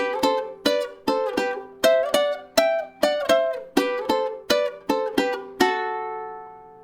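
Ukulele playing three parts of a lesson riff, about a dozen crisp plucked notes in an even rhythm ending on a sustained ringing note, close and alone.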